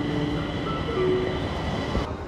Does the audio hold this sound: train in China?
yes